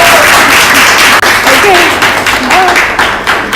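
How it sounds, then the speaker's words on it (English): A crowd applauds steadily at a charity beauty collaboration event, a dense wash of clapping with voices calling out over it throughout. "So if you could just please give her a round of applause."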